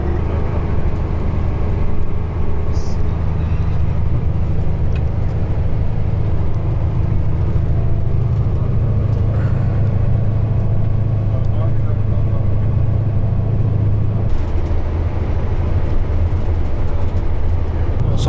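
Steady loud engine drone and road rumble fill the interior of an intercity bus travelling from Lahore to Islamabad in Pakistan, a continuous low hum with slight shifts and no clear talk.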